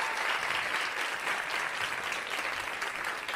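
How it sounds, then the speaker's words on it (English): A New York City stand-up comedy crowd gives a sustained round of applause, a continuous, fairly distant and moderately quiet roar of clapping without any voices. "New York City, a round of applause."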